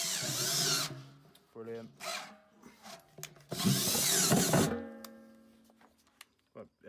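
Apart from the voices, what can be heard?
power drill enlarging a hole to 13mm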